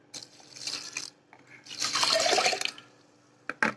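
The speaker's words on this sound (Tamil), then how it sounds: "தண்ணி வந்து நிறைய ஊற்றணும்" Water poured into a pressure cooker holding kavuni rice, splashing in two main bursts with a short gap between them, close and fairly loud, followed by a brief clatter at the end.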